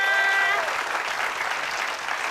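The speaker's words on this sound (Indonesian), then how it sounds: "Tapi tepuk tangan dulu untuk Yana." A television studio audience at a comedy talent show bursts into loud, sustained applause, a dense wash of clapping with a brief tonal sound at the start before it fades slightly.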